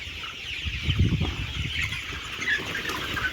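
About nineteen hundred 38-day-old coloured meat chickens inside a poultry shed cluck and murmur in a dense, continuous chorus, with bursts of wing flapping close by.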